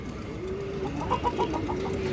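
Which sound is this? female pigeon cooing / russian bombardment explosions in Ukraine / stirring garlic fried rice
female pigeon cooing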